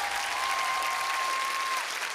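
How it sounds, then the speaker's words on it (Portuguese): Loud studio audience applause on a Brazilian TV variety show, a thick continuous wash of clapping close up, with a faint sustained tone running through it. "nosso aplauso pra você."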